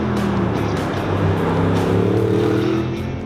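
Audi R8 from 2014 under way, its 7-speed S-tronic dual-clutch gearbox working through shifts; a steady, loud engine drone with rising and stepping pitch sweeps as it accelerates and changes gear, no talking.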